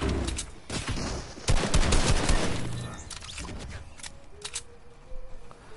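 Bursts of automatic gunfire from a bot in Fortnite, rapid sharp cracks clustered at the start and sparser shots trailing off, fairly close and loud with no talk over them.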